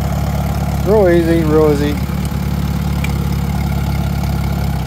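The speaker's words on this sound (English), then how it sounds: "Give a little gas. Hit the starter. And that is pretty much starting it." Allis Chalmers CA tractor engine running at a steady low idle after starting, a continuous mid-loud rumble, with someone speaking briefly over it early on.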